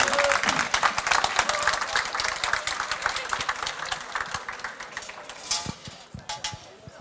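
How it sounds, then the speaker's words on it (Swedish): Small, encouraging round of applause from an audience at a cooking competition semifinal, steady clapping over a busy kitchen backdrop with clinking cutlery and a raised voice speaking over it. "En liten peppande applåd."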